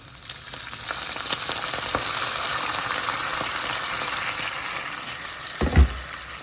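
Onion, scotch bonnet pepper and thyme fry in a pot with a steady close sizzle that briefly surges as kettle water is poured in near the end.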